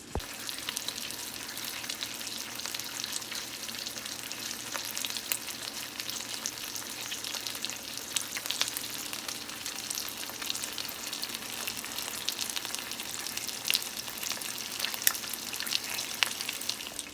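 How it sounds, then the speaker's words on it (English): Pork belly sears over medium-high heat in an Instant Pot, giving a dense, continuous crackling sizzle with scattered pops, close and steady throughout with no talking. "We're gonna sear this for about 5 minutes."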